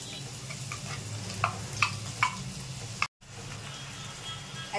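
A prepared spice mix goes into browned fried onions for a lote fish dish, giving a quiet steady sizzle broken by several light clinks and scrapes of a spoon, then a brief gap of silence before the frying resumes.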